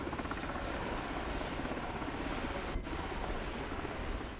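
A simulated aircraft engine drones in Microsoft Flight Simulator 2024 during a free flight around Reykjavik, a steady, dense rumbling roar that holds without pause throughout, with no talking over it.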